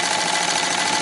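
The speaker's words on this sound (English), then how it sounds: "this is the Cowboy cylinder machine" Cowboy 246 cylinder sewing machine stitching leather, a brief dense loud mechanical whir, steady and close with no pauses.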